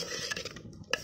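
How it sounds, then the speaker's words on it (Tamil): Drumsticks are stirred in a pot while sambar is being made, with a brief faint scrape and a light metallic clink of the spoon against the vessel. "முருங்காய் போட்டு நல்லா கிண்டி விட்டுக்கலாம்."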